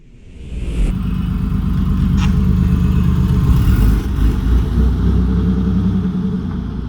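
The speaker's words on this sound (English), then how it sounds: "I think the best thing to do is just go for a drive." A Porsche 964 Carrera 2 with a grabby, high-biting clutch pulls away on a road drive, its engine rising from a low idle into a steady, loud mechanical rumble heard up close from inside the car.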